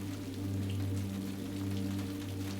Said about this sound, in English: the sound of rain falling is enough to take you back to the luscious rainforest